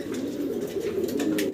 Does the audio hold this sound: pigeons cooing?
yes